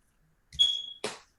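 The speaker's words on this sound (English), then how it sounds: "I know that's your fire alarm" A smoke detector chirps once, a single high, thin beep about half a second long, then a short burst of noise, all alone in a quiet room.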